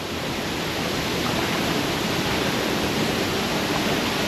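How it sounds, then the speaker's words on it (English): A waterfall in the Bali jungle near Ubud roars as a constant, broad rushing wash of water. The sound is loud and close, holds steady throughout, and no one speaks. "and there's more waterfalls."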